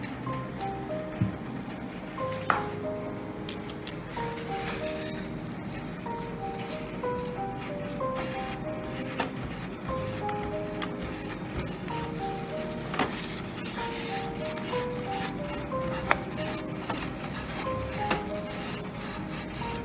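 Old thermal paste is wiped off a computer CPU with perfume, heard as soft, repeated rubbing and scrubbing strokes close up, under quiet background music.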